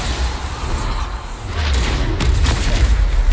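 The Bombarda explosion spell in Hogwarts Legacy, a loud, close blast building into a rumbling boom with crackling debris, followed by sharp repeated impacts.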